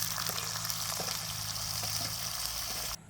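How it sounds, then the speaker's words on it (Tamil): Steady hot-oil sizzle and crackle of onions frying, with faint pops, continuous and close, with a low hum underneath; it cuts off abruptly near the end. "வெங்காயத்தை போட்டு பொரிப்போம்."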